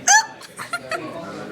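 Squeaky, high-pitched hiccups, several short sharp bursts in quick succession, the first loudest and the rest quieter, with faint voices around them.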